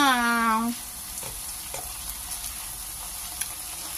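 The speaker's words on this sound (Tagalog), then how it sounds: "ginisa ko na dito sa aking alugbati" A leftover beef burger patty sautés with alugbati greens in a pan, giving a steady close sizzle with a few soft stirring knocks, after a brief tonal sound at the start.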